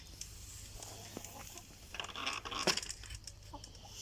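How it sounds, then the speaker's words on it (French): Hens and pullets in a backyard chicken coop, alongside a small silkie rooster, give soft, scattered clucks and rustles over a low steady background, with a slightly louder burst near the middle. "donc ça, c'est les poulettes"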